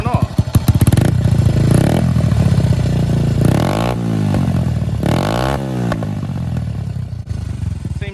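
A 1999 Honda C90 motorcycle fitted with an aftermarket big bore exhaust revs loudly and repeatedly close by, rising and falling in pitch with a harsh, clattering edge throughout.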